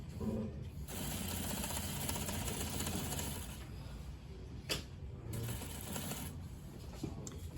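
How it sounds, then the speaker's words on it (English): A sewing machine stitches the under collar onto a shirt with fusing, its steady whirring drone running continuously with brief pauses and small clicks, close and fairly quiet. "sewing the under collar to the shirt with the fusing"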